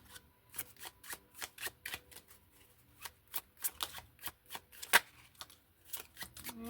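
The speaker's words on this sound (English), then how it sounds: "I want to pull some of the empowerment cards." Empowerment oracle cards being shuffled by hand, a quick series of crisp riffling flicks and soft slaps in an uneven rhythm, close and quiet, with no talking over them.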